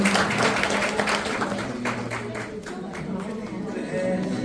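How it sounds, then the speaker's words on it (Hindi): Guests at a Diwali celebration get a round of applause, steady clapping from a gathered crowd that gradually thins, with speech mixed in. "इनको एक बार जोरदार तालियों से उन्होंने उत्साह बढ़ाइए"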